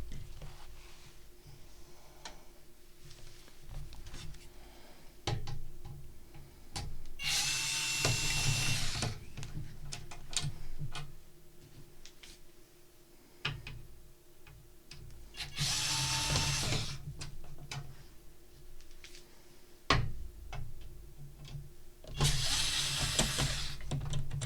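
Power screwdriver backing screws out of the bottom of a Columbia Data Products VP portable computer, three short whirring bursts spaced several seconds apart, close but moderate in level, over a quiet background.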